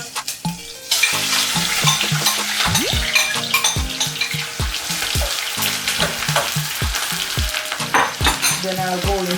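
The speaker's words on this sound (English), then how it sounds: "I'll add the ground provision to the pot" Ground provisions drop into a pot with callaloo and sizzle loudly, with constant stirring and scraping, clattering and a watery hiss throughout, close and dense with no voices.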